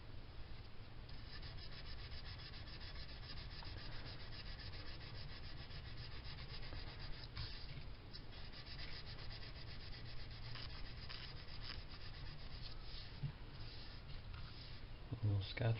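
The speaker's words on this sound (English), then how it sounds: "Sandpaper." Sandpaper rubs back and forth on a Lakland bass body to give it a relic finish, a continuous close, faint gritty scratching that keeps an even rhythm throughout.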